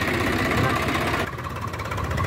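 A Swaraj 744 tractor engine labors under a heavy load of about 150 quintals, a loud steady diesel rumble with mechanical knocking that drops slightly in intensity partway through, close to the listener.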